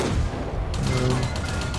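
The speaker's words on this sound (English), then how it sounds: "you've got the fast firing cannon there, or gun. I believe it's a 50 cal on the M2" Rapid bursts from the fast-firing .50 cal gun on an M2 tank in World of Tanks, a dense, loud clatter of gunfire running through the whole short stretch with no talk over it.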